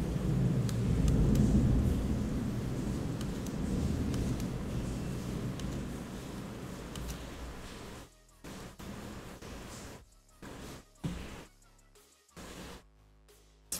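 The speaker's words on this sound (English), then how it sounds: "Holy shit, can you guys hear the clouds? They were pretty fucking loud." Heavy rain pours steadily with deep rolling thunder rumbling loud and close through the first half, then the downpour breaks into choppy, intermittent bursts and gaps toward the end.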